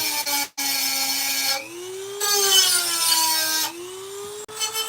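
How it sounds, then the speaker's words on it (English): A motorised grinder works a homemade hard-steel hand chisel with a whining, high-pitched drone. The pitch rises and falls as the tool is pressed, with brief gaps where contact breaks. "Got plenty here, I can grind it down."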